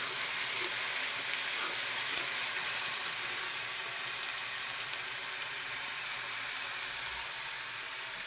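Ginger garlic paste fries in oil in a pan, a steady, continuous close crackling hiss and sizzle with faint stirring scrapes throughout.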